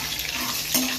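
Garlic frying in hot oil in a home kitchen while preparing a traditional Tamil fish curry, a steady close sizzle with a brief louder flare near the end, no talking.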